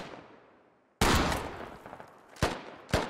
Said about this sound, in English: This is pretty much blind fire right now.